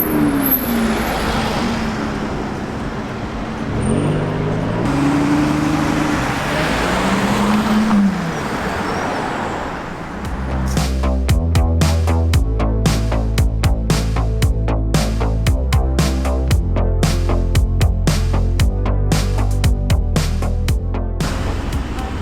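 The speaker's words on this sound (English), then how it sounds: "The car that just left was the new Aston Martin Vantage" A new Aston Martin Vantage driving away, traffic noise and passing engine sound building over about twenty seconds, with a louder rough rumble in the second half.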